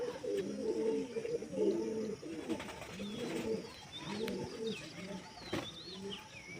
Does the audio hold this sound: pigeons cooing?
yes